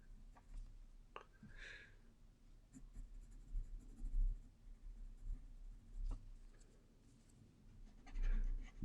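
A graphite pencil scratches softly across paper while shading a horse drawing, with faint, intermittent strokes and light scraping at close range, no speech.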